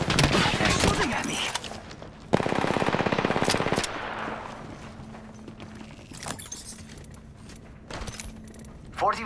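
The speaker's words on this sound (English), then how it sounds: "They're shooting at me!" Rapid automatic gunfire from a video game battle in Kings Canyon, Apex Legends, with a dense burst of fast shots, scattered single cracks and clatter following, loud and close.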